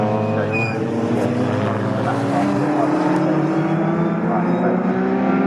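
Race cars, including a Porsche, run at Snetterton circuit during an all-comers race. Loud engines drone and rise in pitch as they pass, continuous throughout, with a commentator talking over them.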